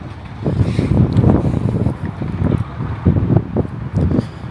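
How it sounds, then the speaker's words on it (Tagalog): Strong gusty wind at an outdoor market in Japan, buffeting the microphone in loud, uneven low roaring bursts that rise and fall, with no talk. "Sobrang lakas ng hangin, no?"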